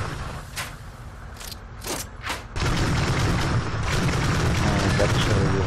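Machine gun mounted on an LSV Rhino vehicle in a video game, with a few isolated shots early on, then sustained, loud rapid automatic fire rattling continuously to the end.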